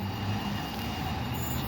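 A passing train at Starcross, with Class 43 power car 43321 on the rear of a Plymouth service, rumbles as a steady, loud broadband roar with low droning, no voices over it.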